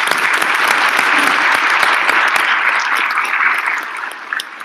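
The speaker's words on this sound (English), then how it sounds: "let's give them a round of applause" A large crowd at a conference plenary applauds steadily for several seconds, dense clapping that begins to thin and taper off toward the end.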